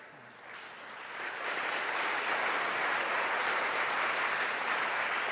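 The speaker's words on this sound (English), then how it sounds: "I'm sad about the applause." Audience applause at a panel discussion on Israel and Palestine during a denominational general assembly, swelling from a thin start into sustained, dense clapping that fills the hall.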